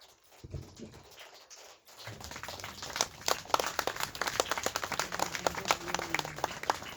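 At a satsang gathering, an audience breaks into clapping for Pandit ji after a quiet start, building into a lively, dense round of many hands that continues to the end.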